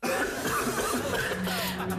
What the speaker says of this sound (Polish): Ale kaszlesz, misiu.